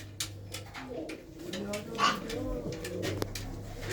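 Purebred pigeons in a loft coo softly, low throaty calls repeating at a distance beneath quiet background murmurs and faint talk.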